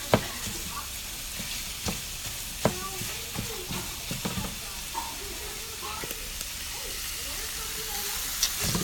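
Seasoned pork sizzles and fries in a pan while being stirred, a steady close hiss broken by repeated scraping knocks of a utensil against the pan, with a voice speaking faintly.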